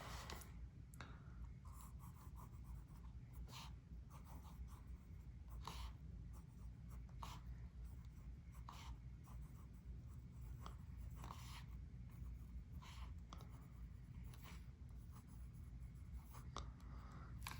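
A TWSBI Go fountain pen scratches softly across very smooth notebook paper in a Galen Leather Cosmo Air notebook. Close-up strokes come in short, repeated bursts with brief pauses between them.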